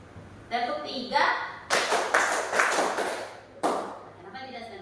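A group, likely schoolchildren, claps in a rhythmic classroom game, striking a few loud, fairly even claps in a row. An adult's spoken cues come before and after, so the claps sit between stretches of talk.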